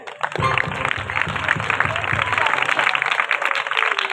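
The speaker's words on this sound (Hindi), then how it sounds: "आए इस बदन के अंदर उसे वेलकम करने के लिए ताली बजाएं" Church congregation clapping in unison during a worship service, a dense steady rhythm of many hands, loud and close, with a voice speaking over it.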